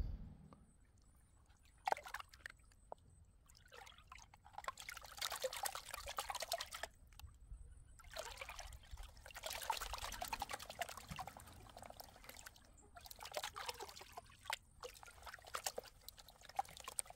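Water sloshes and pours in a bucket while crushed rock is panned for gold outdoors, coming in repeated swirling bursts with quiet pauses between, fairly soft and close, with no talking.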